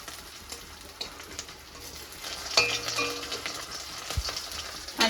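Dried fish (shutki) frying in a home kitchen, a low sizzle that swells midway, with a metal utensil scraping and clinking against the pan and a sharp knock near the end.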